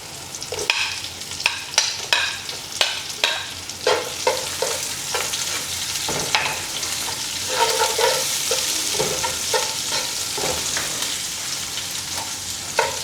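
Onions stirred into hot oil with golden-browned tuyo dried fish for pasta, giving a close, steady sizzle with repeated rhythmic scraping of a spatula against the pan.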